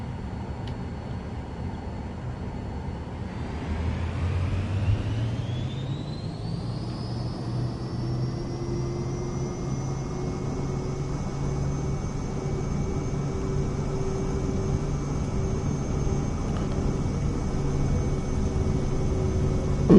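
Airplane taking off in the video game Microsoft Flight Simulator 2024, a steady jet engine drone that spools up after a few seconds into a rising whine, then holds a loud, continuous roar for the rest.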